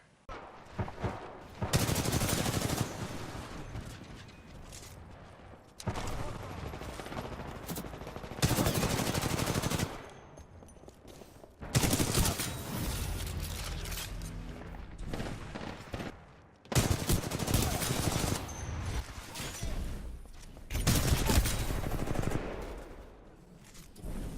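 Sustained bursts of automatic and rapid gunfire from a Titanfall 2 team deathmatch match, loud and close, coming in dense volleys separated by brief lulls, with no talk over it.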